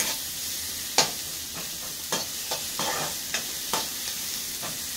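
Onions frying in oil in a pan give a continuous close sizzle, broken up by several sharp scraping stirs of a spoon, with no one talking.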